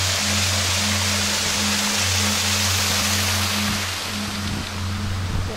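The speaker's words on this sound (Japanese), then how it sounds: "こちら不動の滝になります" Fudo waterfall on a mountain hiking trail pours loudly and continuously, a broad rushing roar close by with a steady low hum underneath, no voices.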